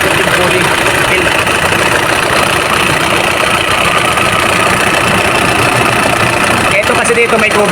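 An Isuzu Crosswind engine idles with its cooling fan turning, giving a loud, steady, close-up mechanical drone while someone talks over it.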